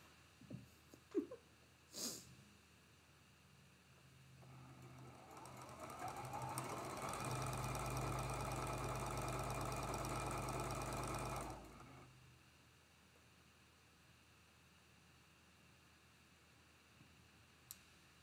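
A sewing machine stitches quilt block pieces for a Starstruck Geese block, running in one steady whirring burst of about seven seconds, with soft handling clicks before and quiet afterward.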